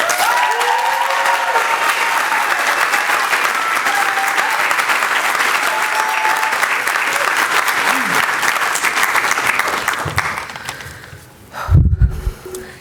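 A ceremony audience applauds steadily to welcome a speaker to the podium at a college physician assistant certificate ceremony, a loud sustained clapping that thins out toward the end as a few faint sounds follow.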